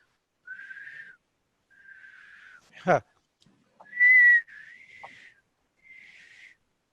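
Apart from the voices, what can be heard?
person attempting to whistle a sine wave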